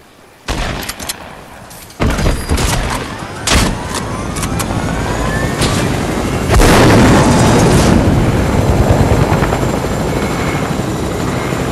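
An aircraft in the video game Fortnite roars loudly and steadily, its engine drone swelling over time, punctuated by several sharp bangs and thuds.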